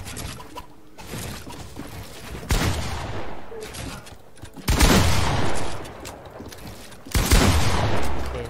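Bursts of Fortnite video game gunfire, loud and close, come in three heavy volleys of rapid shots separated by brief, quieter gaps.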